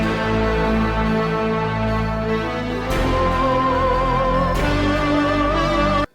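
Diva synthesizer patch from the Driller plugin's core library, a rich sustained harmonic synth with a wavering vibrato lead line over a full beat, loud and steady throughout.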